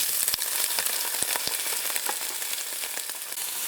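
Canned mushrooms fry in a pan with softened onion, giving a loud, dense, continuous sizzle dotted with frequent sharp crackles and pops.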